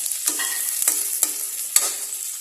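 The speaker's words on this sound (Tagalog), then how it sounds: "Ganyan yung pagluluto niya ng talaba." Oysters sauté in a hot pan with a constant bright sizzle, broken by a few sharp scrapes or tosses at uneven intervals.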